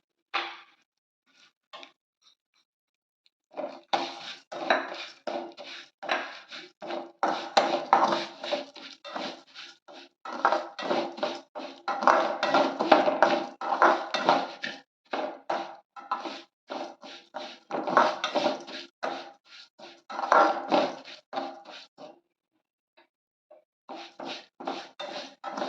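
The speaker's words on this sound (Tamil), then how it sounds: "இந்த நெய்லேயே நம்ம சேமியா வறுத்து எடுத்துக்கலாம்" Vermicelli roasting in ghee in a pan over a medium flame is stirred in bursts of dry scraping and clacking against the metal, with short pauses, near and fairly quiet.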